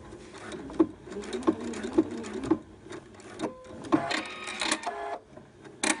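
A sewing machine stitches an invisible zipper into fabric, close and clear, with short rhythmic bursts of whirring needle runs broken by brief pauses.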